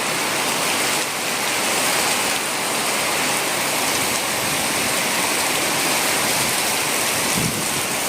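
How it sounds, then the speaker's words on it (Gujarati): Heavy monsoon rain pours down in a residential street after a dark sky, a dense, steady roar of water that stays loud and unbroken throughout, with no voices. "જોરદાર વરસાદ આવ્યો."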